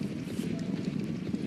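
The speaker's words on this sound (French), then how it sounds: "Et les voilà partis pour ce groupe 1 réservé aux chevaux pur sang arabes." Arabian thoroughbreds breaking from the start of a Group 1 race at ParisLongchamp, hoofbeats rumbling steadily beneath a race commentator's continuous talk.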